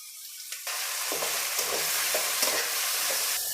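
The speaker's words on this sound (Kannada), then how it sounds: "ಈಗ ಒಂದು ಅರ್ಧ ಫ್ರೈ ಆಗಿದೆ ಟೊಮೊಟೊ" Chopped tomatoes fry in a pan for a tomato rice dish, a steady broadband sizzle after an initial quiet moment, with repeated scraping stirs of a spoon every half second or so, close and fairly loud.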